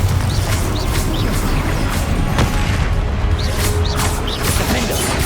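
Confringo spell blasts in Hogwarts Legacy combat on hard difficulty, with loud, repeated booms and crashes layered over a dense, constant roar of battle effects.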